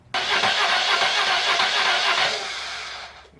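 A BMW R 1100 RT motorcycle, just fixed with a new Hall sensor, cranks and fires up with a loud, steady engine roar close by, settling slightly lower before fading, no talk.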